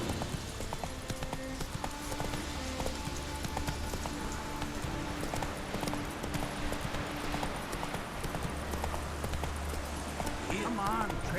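Hooves of Roach, the horse in The Witcher 3, clop in a brisk running rhythm throughout, mixed with game music and spoken voices over a light rain-like patter.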